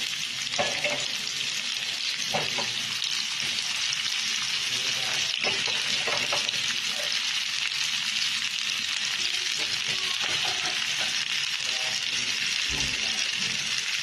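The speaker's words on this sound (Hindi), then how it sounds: "अब डालूंगी थोड़ा तेल और इसी पैन में प्याज डालूंगी" Onions fry in oil in a pan with a steady, loud sizzle throughout, broken by occasional clinks and scrapes of stirring.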